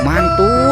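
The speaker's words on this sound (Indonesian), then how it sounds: "Wow, ada ayam berkokok." A rooster crows in a short, loud, close burst with a rising and falling call. A brief spoken word overlaps it.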